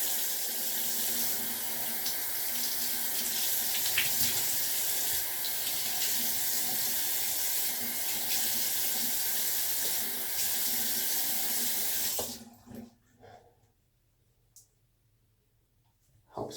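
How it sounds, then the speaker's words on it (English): Cold water runs steadily from a tap and is poured over someone's hair, a loud continuous splashing rush that cuts off abruptly near the end, leaving near silence. "just dump a ton of water in my hair first"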